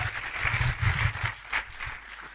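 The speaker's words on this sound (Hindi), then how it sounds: "जोरदार तालियां बॉस, काम हो गया।" Seminar audience at a motivational talk breaks into applause, a dense broadband wash of clapping that swells, dips and surges again across a couple of seconds.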